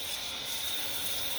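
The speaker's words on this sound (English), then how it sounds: "this handle here, I would turn the shower on with that handle." Water from an indoor/outdoor shower cubicle, turned on by its handle, rushes steadily in an even, hissing stream with no talk.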